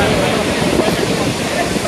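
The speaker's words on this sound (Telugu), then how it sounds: "వాటర్ ఫాల్స్ చూసారా ఎంత బ్యూటిఫుల్ గా ఉన్నాయో" Gaganachukki waterfalls roaring as a dense, loud, continuous wash of falling water, steady and enveloping at a crowded viewpoint, with possible wind buffeting on the microphone.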